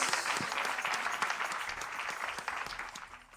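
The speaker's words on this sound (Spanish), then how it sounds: "Un aplauso al Señor Jesucristo" A church congregation at a Sunday service applauds in steady, dense clapping. The sound is fairly even and moderately loud, with a few sharper claps standing out, and no speech is heard over it.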